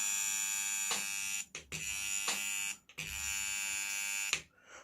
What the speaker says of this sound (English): you can observe the vibrations of the limbs and the sound creating by the transformer.